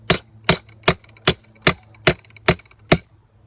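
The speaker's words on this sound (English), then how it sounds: "But if you want to hammer in a screw," Eight sharp hammer blows strike evenly, about twice a second, driving a screw in with a Nailed It tool, each a crisp close knock in otherwise quiet surroundings.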